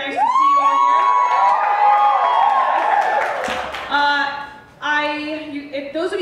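A burlesque festival audience in Chicago cheers, whoops and shouts loudly and continuously, with high excited voices rising over a dense crowd roar that eases off near the end.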